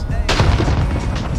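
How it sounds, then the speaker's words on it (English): A grenade blast in Call of Duty Search and Destroy: one sharp, loud burst with a booming rumble trailing off. "we're gonna throw this grenade and try to push up"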